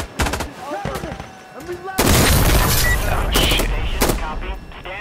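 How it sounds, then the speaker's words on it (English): In the shooter game Insurgency Sandstorm, a suicide bomb goes off with a loud sudden blast partway through, followed by a burst of rumbling debris and gunfire, with players talking before it. "Suicide bomb"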